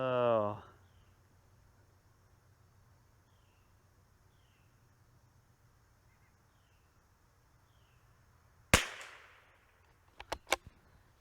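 A Tikka T1X MTR .22LR rifle fires outdoors: one sharp crack with a short ringing tail, then after a pause two quicker, quieter snaps close together, with quiet ambience between.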